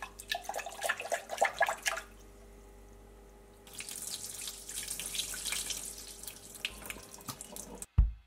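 A kitchen tap runs water into a small sink, starting with splashy bursts, pausing, then flowing in a steady close hiss before a sharp clunk at the end, with no talking.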